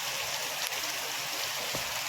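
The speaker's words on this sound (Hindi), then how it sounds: "देखिए बारिश हो रही थी, आवाज़ आ रही थी" Heavy rain pours down in a dense, unbroken hiss, with a couple of sharper drops or splashes standing out briefly; no voices are heard.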